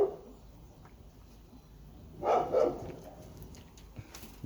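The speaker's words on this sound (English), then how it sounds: "The dog is going crazy." A dog barks in a short burst of two or three loud yaps beside a pigeon and chicken coop, following a stretch of quiet background, with a faint later yip.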